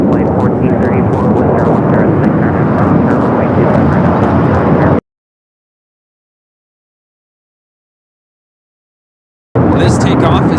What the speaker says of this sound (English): This takeoff is Alaska SkyWest 820 off to Manzanillo on the E175.